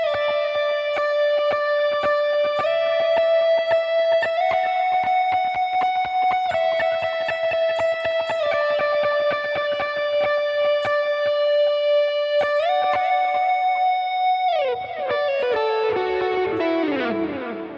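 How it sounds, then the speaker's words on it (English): Clean electric guitar notes ring out one after another with heavy reverb and echoing delay, sustaining and overlapping, ending in a descending slide. "that's when I actually kick up extra reverb and extra delay"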